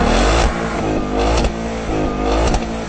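A 2015 Ford Mustang engine revs hard and close in repeated bursts, deep rumbling tones climbing and falling in pitch about once a second, with no talking.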